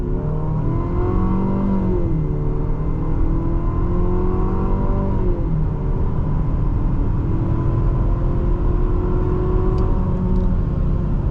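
2026 Infiniti QX60 Autograph pulling hard from a standstill, its engine note climbing in pitch through several gear changes, steady and loud from inside the cabin with no talking.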